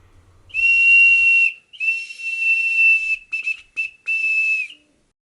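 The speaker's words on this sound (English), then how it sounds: "It's actually a whistle. Allow me to play it for you." A high, shrill whistle built into a necklace, blown in several bursts: two long steady blasts, then a few short choppy toots and a final sustained note, close and loud.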